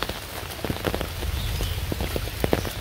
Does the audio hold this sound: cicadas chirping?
no